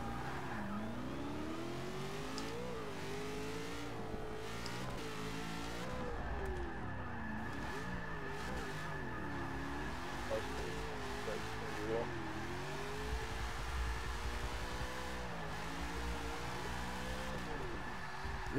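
A 2013 GT500 in Forza Motorsport 6 drifts with its engine revving up and down in wavering swells, tires squealing at times, all at a fairly faint level while a voice talks over it.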